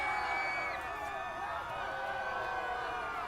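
Golf gallery cheering and applauding around the 18th green at the year's first major, a steady broad wash of crowd noise with tonal voices and whoops running throughout.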